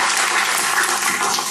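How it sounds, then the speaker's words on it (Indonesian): An audience claps loudly and continuously for new teachers at a school gathering, a dense steady patter of many hands with no voices over it. "Tepuk tangan buat guru baru yang mau berkorban."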